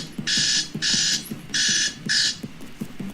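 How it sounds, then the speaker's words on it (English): An alarm sounds in four repeated electronic beeping bursts, loud and near, over a faint rhythmic tapping background. "Sorry, y'all, that's my alarm."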